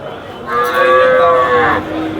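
A cow at the Sangola cattle market gives a single long, loud moo lasting over a second, with steady market background noise around it.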